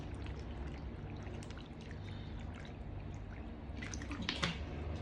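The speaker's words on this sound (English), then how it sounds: "So I'll add water to cover the top." Water is poured over cassava in a pot while making tapioca, a faint, steady splashing and trickling pour with a few brighter splashes near the end, no voices.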